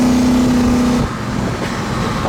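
A 1970 Pontiac LeMans convertible cruising down the road, a loud steady engine drone with wind and road roar, the pitch dropping slightly as it eases off partway through.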